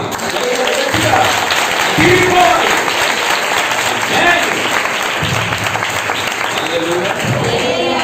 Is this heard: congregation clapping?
yes